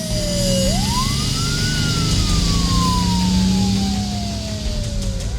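Airport fire engine siren wails loudly, sweeping up and then slowly falling in pitch, over a steady rumbling engine and constant background roar, as the engines race to positions along the runway.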